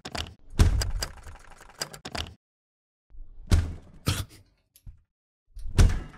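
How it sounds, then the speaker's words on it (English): In a horror video game, a door is locked and a head bangs against it, heard as scattered thuds and rattling knocks in bursts separated by stretches of silence. "Why did you close the door, lock it, and then bang your head against the door?"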